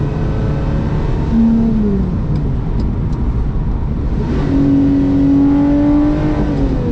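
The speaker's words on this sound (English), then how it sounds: "You just want to air out every gear just to hear that insane noise higher up the revs." A Lotus sports car engine, likely an Exige, Evora 410 or Elise on Michelin Pilot Sport tyres, revs hard while driving, its loud continuous note climbing in pitch through the gears with no talk.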